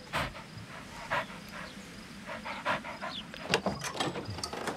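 A dog pants steadily in quick, breathy bursts close by, with no other sound standing out against a low background.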